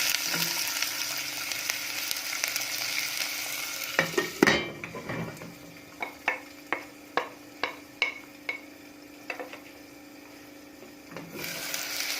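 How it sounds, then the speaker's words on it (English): Steady broadband sizzle of onions frying in cooking oil, continuous throughout, with a series of sharp clicks and taps in the middle stretch. "I'm going to put my onions in here so that they can be frying"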